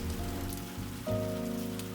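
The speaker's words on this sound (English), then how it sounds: "The rain is still falling softly outside, its rhythm unchanged." Soft, steady rain falls outside a tea shop, a continuous even patter at moderate level with no voices.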